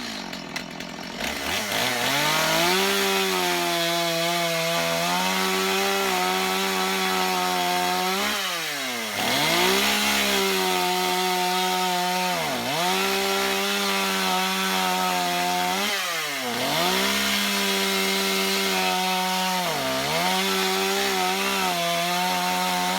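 A Stihl MS 250 chainsaw cuts through black walnut, its engine droning loud and close for over twenty seconds, the pitch sagging under load and recovering in several repeated dips as the chain bites the log.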